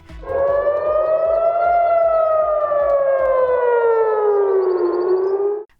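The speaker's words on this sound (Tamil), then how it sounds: "ஈரானிலிருந்து ஏவுகணை தாக்குதல் நடத்தப்பட்டதால் ஜெருசலேத்தில் எச்சரிக்கை சைரன்கள் ஒலித்தன." A loud air raid siren wails alone in Jerusalem during an Iranian missile attack, its tone rising slowly and then falling over several seconds, then cutting off abruptly.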